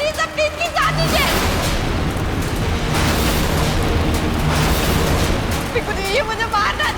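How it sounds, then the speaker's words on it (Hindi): Firecrackers burst inside a Lohri bonfire in a Hindi TV drama scene, a loud sustained crackling and booming blast with dramatic music, framed by tense speech before and after. "लोहड़ी की आग में पटाखे किसने डाले?"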